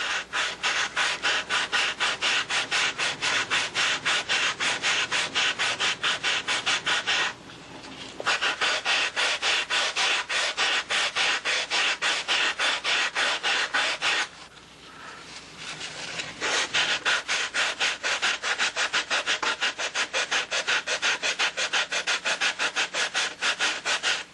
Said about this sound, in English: Now you obviously want to block sand right up to